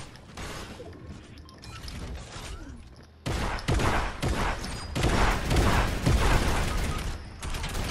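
Rapid video game gunfire in a squad firefight, quieter scattered shots at first, then sustained loud bursts of overlapping rounds and impacts from about the midpoint onward.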